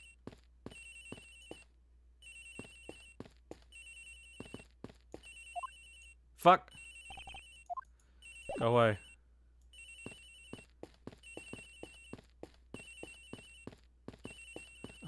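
A cell phone rings repeatedly in the Ace Attorney Investigations video game, a rapid electronic trill recurring in regular bursts, with game blips and a person speaking briefly over it.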